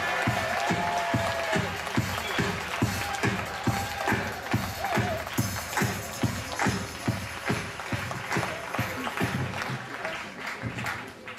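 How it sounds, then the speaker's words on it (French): Festival audience at Gérardmer applauding a film director on stage, loud applause that settles into strong rhythmic unison clapping at a steady beat, with crowd noise over it. "Merci de l'applaudir, Gonzalo López Gallego."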